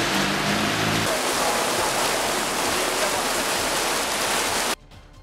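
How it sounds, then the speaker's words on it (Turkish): Heavy downpour in Balıkesir, a dense steady roar of rain pouring down for several seconds, loud and close, cutting off abruptly near the end. "Balıkesir'de kısa süreli sağanak yağmur hayatı olumsuz etkiledi."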